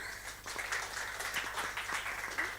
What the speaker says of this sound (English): let's give it a round of applause to Elena